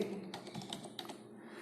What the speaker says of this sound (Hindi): विन वर्ड लिखेंगे